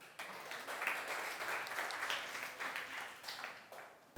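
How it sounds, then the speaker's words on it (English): A small class claps for a pair who just presented in an advanced presentation course, a brief, quiet patter of hands starting abruptly and fading out after about four seconds. "Okay, let's give them a round of applause."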